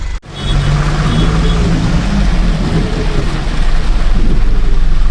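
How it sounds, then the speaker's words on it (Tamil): Heavy rain pours steadily around a vehicle on the road from Chennai toward Hyderabad, a dense continuous roar with a low engine hum beneath and no voices. "மழை வேறு நல்லா பெஞ்சிட்டே இருக்குங்க."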